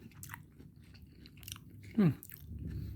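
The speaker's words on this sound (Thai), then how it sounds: "ฟังเสียงผมเคี้ยวครับ" Crispy volcanic durian from Khun Han district is bitten and chewed up close in a few soft crunches, including one sharp crisp bite midway, with a voice murmuring faintly underneath.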